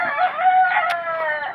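Game roosters kept for cockfighting crow loudly and close by, with a bright, sustained call and a short sharp peak partway through, and no talk.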